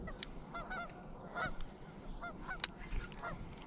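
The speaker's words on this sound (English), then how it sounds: "the geese definitely know that I'm here" Geese honking on a murky lake, several scattered short nasal honks at a distance, faint over a steady background of water and outdoor noise.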